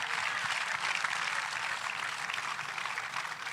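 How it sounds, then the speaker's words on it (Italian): An audience at a live public gathering in La Caletta breaks into spontaneous applause, a dense, even wash of clapping that holds steady throughout without pause. "capisco che l'applauso spontaneo è venuto"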